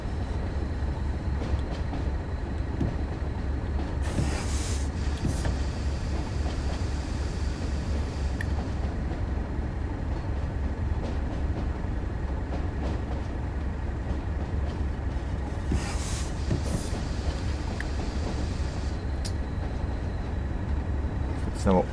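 Freight train in Train Sim World 2 on the Tees Valley Line near Middlesbrough, changing tracks as it rolls; a continuous low rumble with occasional sharper clanks and rattles over the switches, and a voice talks over it.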